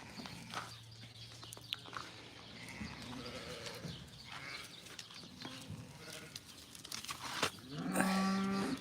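Goats bleat on a farm amid rustling and shuffling, with a louder, nearby bleat rising at the end over a soft background of other farm animals.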